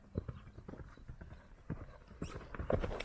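A young colt lopes, its hoofbeats thudding in a quick, repeated rhythm on soft ground over three seconds, fairly close and growing slightly louder toward the end.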